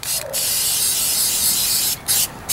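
Spray paint hisses out in long continuous bursts close to the listener, broken by two brief pauses before spraying resumes.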